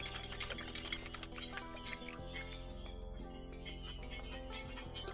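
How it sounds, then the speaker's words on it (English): Sunflower oil and vinegar dressing is whisked in a bowl, giving quick rhythmic clinks and scrapes that are brisk at first and then become lighter and more scattered. "Now just whisk or shake this together."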